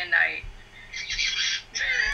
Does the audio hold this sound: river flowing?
no